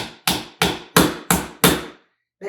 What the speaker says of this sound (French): si on prend un marteau et des clous comme ça en plastique